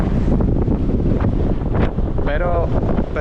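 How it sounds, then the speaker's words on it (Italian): Strong wind buffets the microphone at sea off the Sicilian coast, a loud continuous roar with gusty surges and water sounds beneath, steady throughout. "c'è un vento pazzesco"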